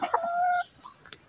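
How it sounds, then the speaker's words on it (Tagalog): Chickens clucking while a rooster crows close by in a vegetable garden, a short burst of loud, clear calls with no talking. "Kayo mga manok kayo"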